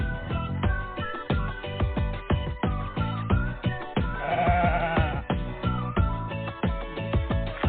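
Meat sheep at a Thai buffalo conservation village in Si Prachan, Suphan Buri, bleat repeatedly, a dense run of overlapping nasal calls from several animals, close and fairly loud.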